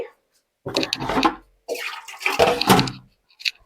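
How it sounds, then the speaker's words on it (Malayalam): Plain water is poured over hot semiya vermicelli in a strainer, making close splashing and gushing in a few uneven bursts separated by short pauses. "സാധാ വെള്ളം ഇടണം പട്ടന്"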